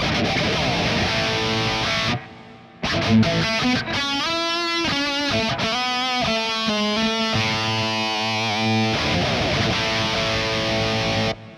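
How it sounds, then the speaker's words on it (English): Electric guitar through a Kemper Profiler soft octave preset plays sustained chords and melodic notes with a thick, shimmering octave-doubled tone and lush reverb tails, loud and continuous with a brief pause. "This one I decided to chuck in because it does something very specific. It adds an octave"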